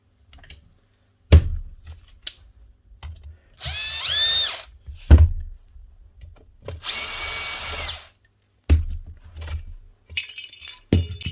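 A worn Makita HR5000K rotary hammer with suspect bearings runs roughly in two loud bursts of a few seconds each, separated by clanks, clicks and handling knocks of the tool on a bench, with no talk.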